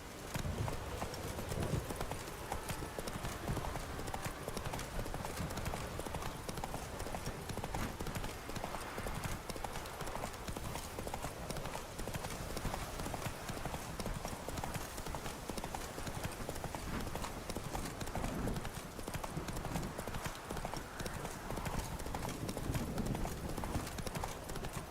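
Horse hooves clip-clop steadily for the whole stretch as a horse is ridden in The Witcher 3, a continuous rhythmic trot over a busy game soundscape.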